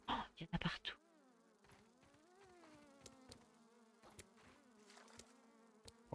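Bees buzz in the Grounded video game as a steady, wavering drone that rises and falls in pitch, joined by faint clicks, after a burst of louder sounds at the start.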